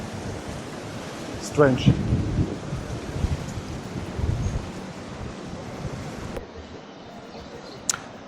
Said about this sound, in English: It's very windy right now here in Wynwood Walls district